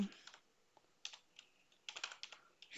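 Typing on a computer keyboard, quiet irregular bursts of light key clicks in short runs separated by brief pauses, close and alone.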